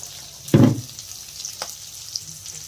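Spices, onion and garlic hit hot oil for a soya chunks curry, giving one loud sizzling burst that fades to a low steady frying hiss with a faint clink of stirring.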